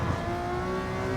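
Ferrari 330 P4 race car engine howling hard at high revs on the Goodwood circuit, a steady, loud sustained roar with strong tonal harmonics, close and uninterrupted, no talking.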